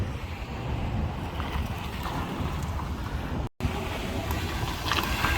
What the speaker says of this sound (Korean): 아 근데 지금 더운 바람 불기 시작했는데